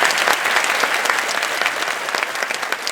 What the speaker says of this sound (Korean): 한번 힘찬 박수 부탁합니다